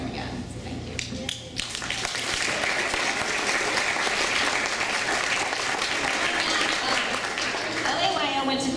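Enthusiastic applause from a crowd, steady and sustained, with some cheering and a few voices mixed in.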